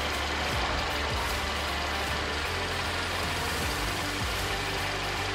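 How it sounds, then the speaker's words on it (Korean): A Hyundai i30 (PD) 1.4 turbo engine idles steadily up close in the engine bay, a constant low rumble with an even mechanical hum and no voices. "엔진 소리 일정하고 좋습니다"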